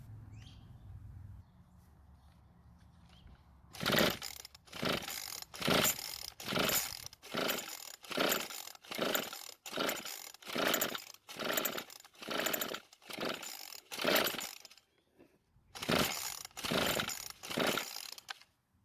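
A string trimmer that will not run is pull-started again and again. Steady, rapid bursts of rasping, sputtering mechanical noise repeat about twice a second, pause briefly, then start again, loud and close.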